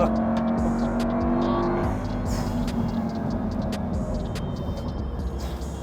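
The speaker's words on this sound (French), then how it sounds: "t'as un V10 qui est derrière toi qui rugit comme jamais" A Lamborghini Gallardo Superleggera's V10 roars loudly and steadily close by, a dense, continuous engine howl that eases slightly midway and then holds strong.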